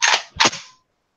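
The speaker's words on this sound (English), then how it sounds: "If you don't have an AK, you can't make this sound." Two sharp AK rifle gunshots fired in quick succession, loud and close, each with a short decaying tail before silence.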